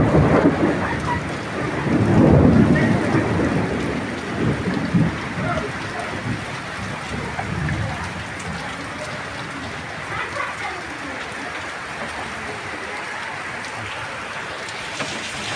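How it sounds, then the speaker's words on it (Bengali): Steady rain falls with a thunder rumble early on, the downpour hissing continuously and fairly close, with no talking. "চলো একটু বৃষ্টির আওয়াজটা তো শুনে নাও তোমরা"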